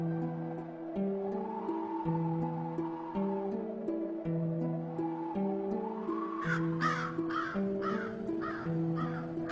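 Crows let out a quick series of harsh caws, several in a row, over a soft background melody that plays throughout.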